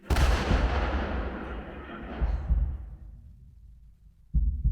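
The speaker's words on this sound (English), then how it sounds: "Simulated mortar explosions that occur when a spark plug ignites a combination of propane and oxygen" A loud explosive boom, a simulated mortar explosion from propane and oxygen ignited by a spark plug, bursts out and rumbles away over a few seconds, followed by a second deep blast near the end.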